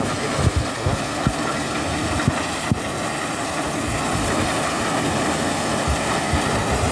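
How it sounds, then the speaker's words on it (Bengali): A half-feed paddy and wheat harvester machine runs with a loud, steady mechanical roar and rumble, broken by a few sharp thumps early on, with no talking. "আশ্চর্যজনক একটা মেশিন এটা হচ্ছে ফুল ফিড মেশিন সরি এটা হচ্ছে হাফ ফিড"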